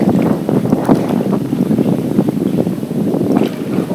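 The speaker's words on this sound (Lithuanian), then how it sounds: "Vėjas į kaktą" Strong headwind buffets the microphone while waves wash and slap around a small boat out on a lake, a rough, gusty roar that rises and falls with no talk.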